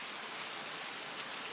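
Steady rain falling at night beside a lit swimming pool, an even broadband hiss of drops on water and paving, constant and close with no other sounds.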